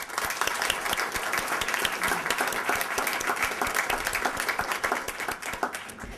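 At the State College of Florida Venice honors convocation, a large audience applauds the honorees with loud, sustained, dense clapping that carries evenly from start to finish.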